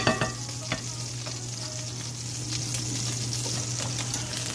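Garlic shrimp sauce cooks in a pan, giving a steady, even sizzle and bubbling with a low hum beneath and a few clinks near the start, with no talking.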